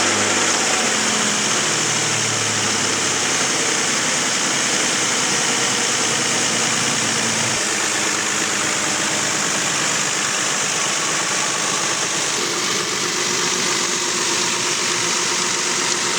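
Repaired car engine idling steadily and loud, a constant mechanical hum with a brief change early on before settling into an even, uninterrupted run.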